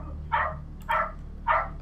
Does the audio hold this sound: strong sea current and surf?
no